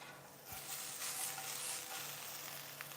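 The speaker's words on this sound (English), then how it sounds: "Hear that sizzle?" Potatoes fry in a pan with a steady, bright sizzle that hisses continuously and fairly softly throughout, with no talking.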